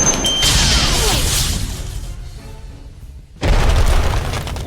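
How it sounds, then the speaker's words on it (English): Missile barrage special power in the video game Costume Quest, loud booming explosions with a whooshing rush, a brief drop to near quiet, then another heavy blast. "Your special power is now fully charged and ready to use. Press the Q button to use your missile barrage."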